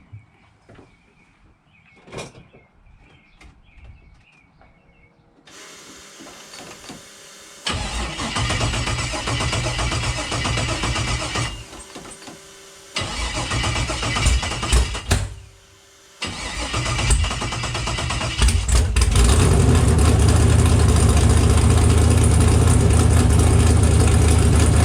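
LS-powered Camaro engine cranking and firing up, then idling with a deep, rough rumble that drops out, restarts, and swells louder toward the end, close and dominant.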